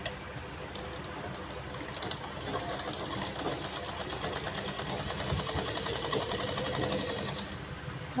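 A sewing machine runs steadily at close range, its rapid stitching an even mechanical chatter as it sews a blouse shoulder seam, with a faint pause near the start and end.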